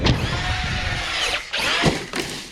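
A Traxxas Sledge RC truck races toward a 45-degree ramp, its motor whining loudly and close, surging and dropping in pitch, with brief cuts as it hits the ramp at speed.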